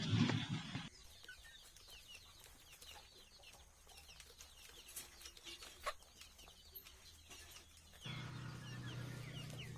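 Free-range local desi chickens on a farm clucking faintly and intermittently at a distance, with a louder burst of bird calls at the start and a steady low rumble returning near the end.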